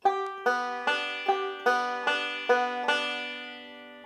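A banjo plays a steady picked right-hand roll for "Cumberland Gap" in Sally Goodin position, thumb on the fifth string, bright ringing notes, evenly spaced and fairly close, with no voices.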